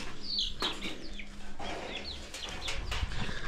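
Several chickens cluck and squawk close by in short irregular bursts, with a steady background hiss and a faint low hum.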